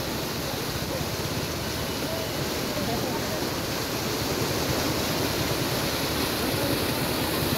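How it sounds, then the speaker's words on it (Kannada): Floodwater rushing across an areca farm after heavy rain washed away a bridge, a loud, dense, unbroken roar of turbulent water close by, with a voice faintly under it. "ಸೇತುವೆ ಕೊಚ್ಚಿ ಹೋದ ಹಿನ್ನೆಲೆ ಅಡಿಕೆ ಜಮೀನಿಗೆ ನೀರು ನುಗ್ಗಿದೆ"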